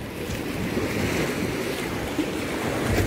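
Sea waves wash onto the shore at Sutomore, Montenegro, a close, continuous rushing surge with gusty wind buffeting the microphone and no talking.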